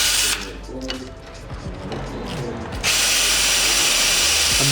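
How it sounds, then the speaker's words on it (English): Power tool whirring against a rusty bolt on a Chevy frame under repair, the motor grinding steadily and jumping louder near the end, with music playing in the background. "I'm just trying to get a little bit of rust off of the bolt"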